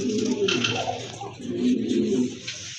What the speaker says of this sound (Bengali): মাশাআল্লাহ, আরেক জোড়া কবুতর দেখতে পাচ্ছেন